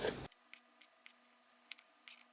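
A knife taps sharply on a cutting board while cutting bacon into cubes, a handful of separate, uneven chops, each brief and crisp, after a short burst of noise at the start.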